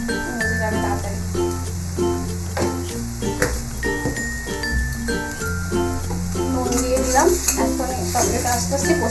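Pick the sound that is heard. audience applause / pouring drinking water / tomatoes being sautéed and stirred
tomatoes being sautéed and stirred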